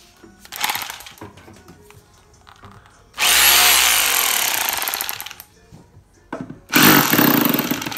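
A corded DeWalt rotary hammer drill runs in two bursts, each a loud rattling hammering roar lasting a few seconds, separated by quieter handling noises.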